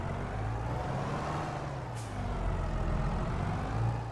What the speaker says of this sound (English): The turbo sound.